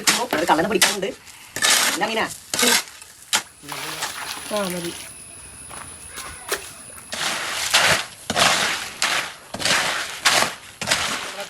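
Rough, repeated scraping and grinding of a coarse cement, sand and gravel mix being worked for paving blocks, in uneven bursts, with a person talking in between.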